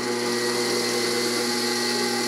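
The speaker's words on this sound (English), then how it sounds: "So I'm going to put the drill press at a slow speed." A drill press driven by a DC motor runs at slow speed, giving a loud, steady mechanical whine and hum that stays constant throughout with no talking.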